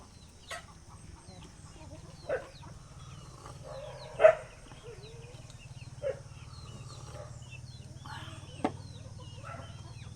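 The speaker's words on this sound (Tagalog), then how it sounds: "Dami ko mga alagang mga manok dito guys." Pet chickens cluck in short, separate calls spread across a quiet yard, one louder nearby squawk standing out among fainter clucks over a steady low hum.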